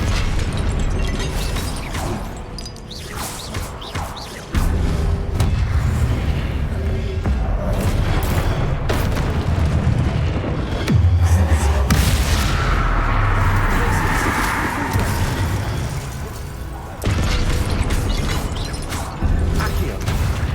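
A Confringo fire-blast spell from the Hogwarts Legacy video game goes off amid layered combat effects, booming bursts and mechanical rumbles that continue steadily with no speech.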